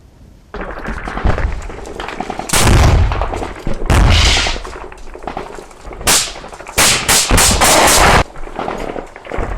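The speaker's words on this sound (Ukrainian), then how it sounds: "Там чути постріли." Loud bursts of gunfire crack repeatedly in real combat near Avdiivka, Ukraine, some single shots and some rapid strings, echoing sharply with heavy booms mixed in.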